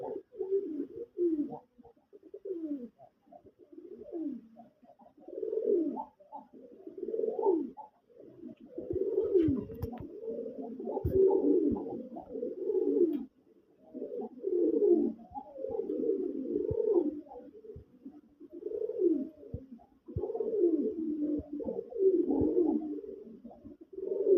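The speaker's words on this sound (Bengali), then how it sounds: "হাতের বাম পাশে যে কবুতরটা মানে যেটা ডাকতেছে সেটা হচ্ছে নর" A male Rajgolla pigeon coos nearby in repeated low, throaty phrases, each a few seconds long, separated by short pauses and heard alone without talk.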